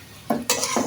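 Chili chicken is stirred and tossed in a hot frying pan, giving short bursts of scraping and sizzling over a little under a second.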